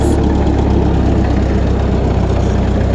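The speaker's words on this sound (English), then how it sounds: "Got a little sound of that Continental revving up." A Continental engine in a cheap refurbished tractor runs loud and close at night, giving a continuous rough, knocking drone with no talking over it.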